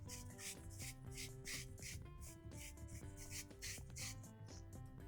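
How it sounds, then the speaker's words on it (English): Onion grated on a hand grater, a series of quiet rhythmic rasping strokes close by, with music playing underneath. "So I'm just going to grate some onion in there."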